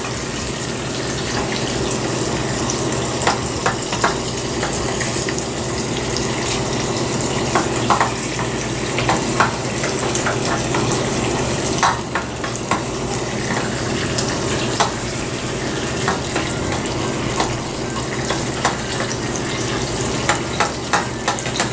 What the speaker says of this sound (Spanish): en lo que terminamos de freír nuestra cebolla con nuestro ajo